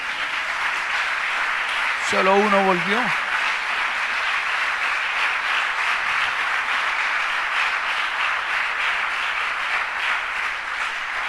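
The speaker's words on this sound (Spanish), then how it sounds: "¿Cuántos dan un aplauso al Señor Jesús por eso?" Sustained applause from a church congregation fills the whole stretch, loud and steady, with a pastor's voice briefly speaking over it.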